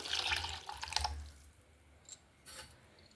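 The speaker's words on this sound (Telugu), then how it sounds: "మనం చింతపండు నానబెట్టుకున్నాం కదండి" A short splash of soaked tamarind water being poured into a bowl, followed by a few faint drips and light clinks, close by and without talk.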